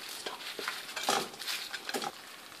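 Fried cauliflower being stirred into sauce in a pan for Gobi Manchurian, a soft wet patter and scraping of a spoon with several close, irregular stirring strokes and no talk.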